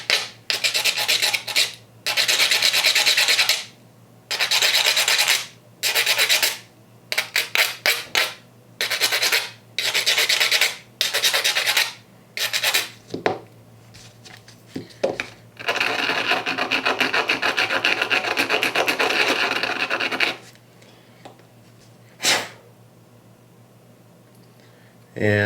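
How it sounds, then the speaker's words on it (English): Repeated bursts of gritty rasping as a sander flattens a set screw for a Team Associated RC8B4 RC car, short strokes separated by pauses, then one longer continuous run, loud and close. "I like to sand so the set screw on the bottom is like flat. So I got my sander here."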